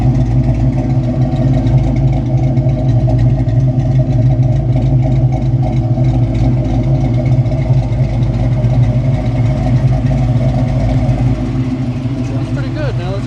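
A Ford Foxbody Mustang fitted with cheap Amazon fuel injectors idles steadily around 775 rpm, a loud, even engine drone with a faint mechanical clatter, close to the microphone throughout.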